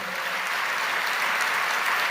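Audience clapping in applause at a Telugu religious gathering, a dense, steady wash of many hands, loud and continuous from start to finish.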